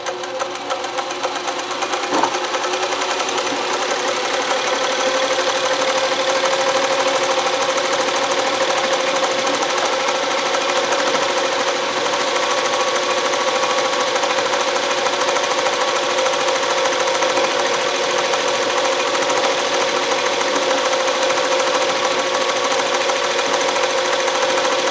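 A Consew CN2053R-1A industrial sewing machine runs steadily through free motion embroidery, its loud, continuous rapid stitching drone unbroken for the whole stretch, with no talking.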